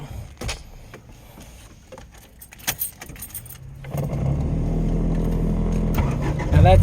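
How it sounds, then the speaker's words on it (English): A car's dashboard blower fan, on an EF or EK sedan project car with a fan due for replacement, starts up midway and runs as a steady, fairly loud whirring drone, after earlier clicks and rattles inside the cabin. "Now that's the fan in the dash there that you're hearing"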